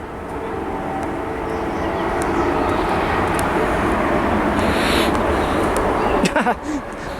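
A train passing on the Empire State Trail, a loud sustained rumbling roar that swells and holds, with someone talking near the end.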